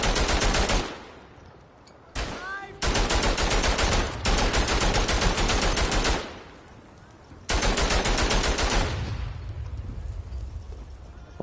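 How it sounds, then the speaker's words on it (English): Combat in the World War I trench shooter game Verdun roars with dense bursts of rapid gunfire and blasts, loud and close, broken by short quiet gaps between the volleys. "All kinds of explosions going on around me here"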